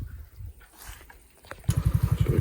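A Spark SP110C-2C motorbike engine, quieter and muffled at first, then revs up into a loud, close, rapid pulsing run over the last second, with no talk.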